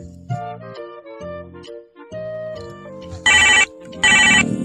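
A phone ringtone plays a repeating melodic tune up close, running through several phrases before two louder bright bursts at the end, with no talk over it.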